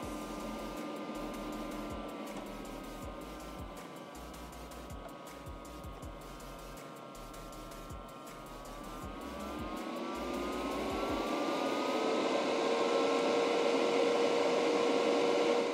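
A DSPIAE Glutton PRO dust collector's fan whirs steadily, then its pitch and loudness rise as it speeds up, ending in a strong, even high-pitched whine close by.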